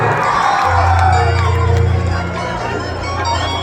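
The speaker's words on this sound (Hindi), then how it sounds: "अचानक के जोरदार ताली बजा के आशीर्वाद दे दुल्हा दुल्हन" A wedding crowd cheers and shouts for the bride and groom, a loud burst of massed voices and whoops close by that eases off after a couple of seconds.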